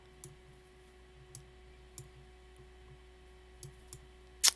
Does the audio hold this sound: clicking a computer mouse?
yes